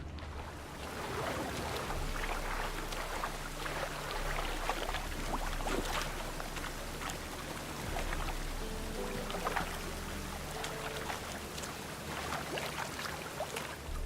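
Swimming strokes through a dirty Novigrad canal in The Witcher 3: steady, close splashing and sloshing water with a low ambient rumble underneath, continuous throughout.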